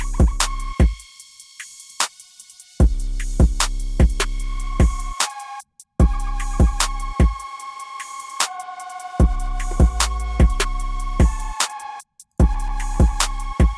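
A synth lead from Reason 10 with its low end cut too hard by a steep filter plays a choppy, rhythmic pattern of bright repeated notes with abrupt gaps, loud and up front, with no voices.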